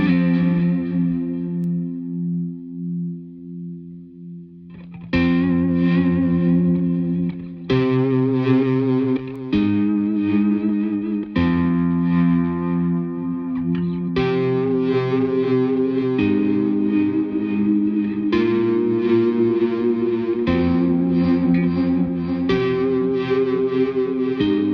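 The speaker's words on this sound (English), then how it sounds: "it can create a kind of reversed delay kind of sound, which is very cool" Distorted electric guitar chords drenched in delay and reverb, with swelling, backward-sounding repeats blurring each strum into a continuous wash.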